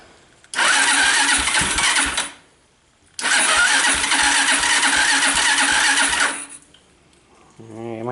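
A Suzuki LT230 ATV engine, running off jumper cables, cranks and fires into a loud sputtering idle twice, with a pause between runs, then cuts out as a voice begins speaking.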